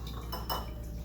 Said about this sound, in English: So we just whisk this together until the whole thing is